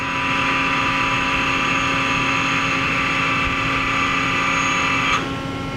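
Mori Seiki NL3000Y CNC lathe with its live tool spinning at 2,700 RPM, a steady high machine whine with tonal hum that holds evenly before dropping off abruptly near the end, no talking.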